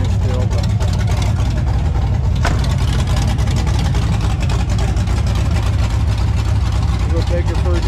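A small-block V8 in a 1986 Chevy square body truck idles steadily, a close, continuous low rumble that holds even throughout while someone talks over it.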